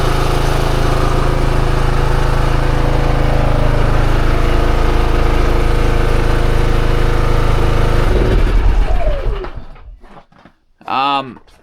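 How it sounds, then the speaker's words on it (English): A Harbor Freight Predator 5000 generator running on the last of its gas, a loud steady close engine drone that sputters and winds down to silence near the end, followed by a short burst of speech. "we had run 2 tanks of gas through this generator, and this morning what I'm doing is let it run till it runs out of gas"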